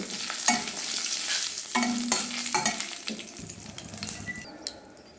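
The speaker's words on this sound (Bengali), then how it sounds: "এবার ফোড়ন দিচ্ছি তেজপাতা, একটা শুকনো লঙ্কা আর অল্প একটু কালো জিরে। ফোড়ন ভেজে নেব।" Bay leaf, one dried red chilli and nigella seeds crackle in hot mustard oil, a continuous close sizzle broken by sharp pops and scraping stirs, with no talking.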